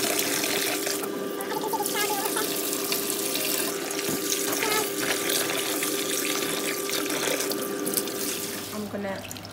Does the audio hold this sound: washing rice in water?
yes